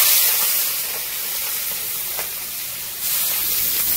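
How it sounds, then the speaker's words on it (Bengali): Prawns frying in hot mustard oil give a steady, close broadband sizzle and hiss that swells slightly near the end, with no voices. "চিংড়ি মাছগুলো ভেজে নিচ্ছি, তেলটা গরম হয়ে গেছে।"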